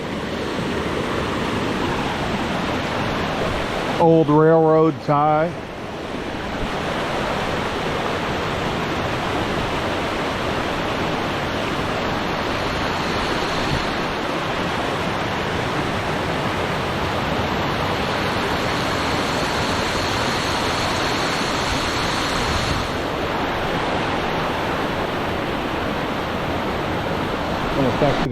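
Loud waterfall beside a trail along Turnagain Arm in Alaska, a constant close roaring rush of falling water, with someone speaking briefly over it early on.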